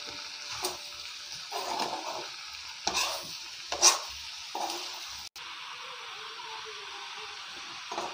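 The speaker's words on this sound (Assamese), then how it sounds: "কলডিল দিয়াৰ পিছত পুনৰ ভালদৰে লৰাই দিব।" Banana flower and chicken pieces being stirred in a frying pan, with repeated scraping strokes over a steady sizzle, close up and without talk.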